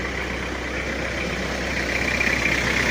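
Freshly overhauled Toyota Kijang LGX diesel engine idles steadily and evenly, a constant low mechanical hum with a faint whine, close by and with no voices.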